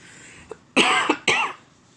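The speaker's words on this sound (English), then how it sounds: "now I'm starting to cough a little bit" A few sharp coughs close by: a small one, then two louder bursts in quick succession, each with a rough, throaty edge.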